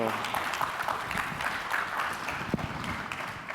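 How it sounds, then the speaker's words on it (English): Audience applause for Bobby at a design talk, a steady wash of clapping from a room full of people with voices murmuring underneath, moderately loud throughout. "Please give a round of applause to Bobby"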